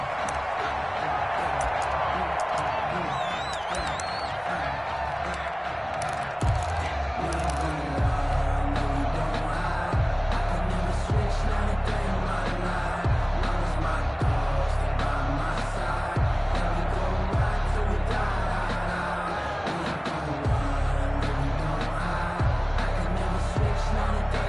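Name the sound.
stadium crowd cheering in a PS4 football video game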